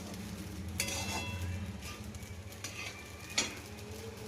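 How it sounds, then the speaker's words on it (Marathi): Sabudana and potato papad fry in hot oil with a soft, continuous sizzle, punctuated by a few sharp clinks of a utensil against the pan, all fairly quiet with no talking. "अशाच पद्धतीने मी सर्व पापड तळून घेते"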